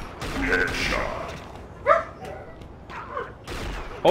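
A dog barks several times in short bursts close by, the barks spaced unevenly under someone talking.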